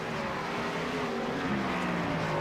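An ANZCAR Cup race car, the number 53, laps Sonoma Raceway with a steady, loud engine drone that stays constant throughout, with no talking.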